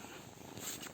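A frightened cat in a forest purring softly and continuously in a short, faint stretch against quiet outdoor background noise.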